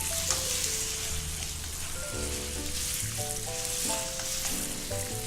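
Lamb browns in a pan for a Pakistani rogan josh curry, giving off a loud, continuous sizzle and crackle throughout under steady instrumental music, with no speech.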